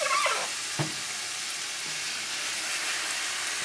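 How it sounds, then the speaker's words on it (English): Mushroom puree cooking in melted butter in a skillet gives a steady, even sizzle throughout, with a soft stir or scrape near the start and no talking. "Put in 3 tablespoons of butter in a skillet. And then put this puree mixture of mushrooms in there."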